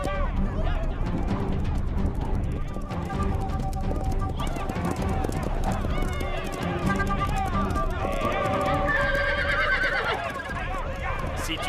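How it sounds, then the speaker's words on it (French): Cartoon horses being driven toward a cliff by tribesmen, with repeated loud neighs and whinnies over continuous galloping hoofbeats, all mixed under busy music. "Ils vont rabattre les chevaux et les coincer contre la falaise."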